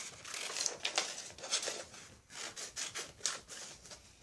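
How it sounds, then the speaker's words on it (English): Scissors cutting two pieces of paper for a handmade bookmark: faint, close, irregular snips and rustles of the paper, with no talking. "I'm going to cut out those two pieces of paper."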